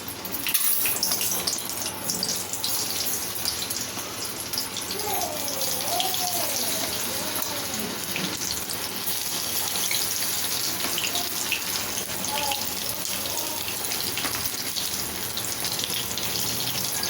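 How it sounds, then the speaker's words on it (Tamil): Baby corn pieces sizzle in hot oil in a home kitchen, giving a steady, fairly quiet crackling hiss that continues without a break across the whole stretch. "ஆயில் ஹீட் ஆனதும் ஒவ்வொன்றா போட்டு பொரிச்சிக்கலாம்"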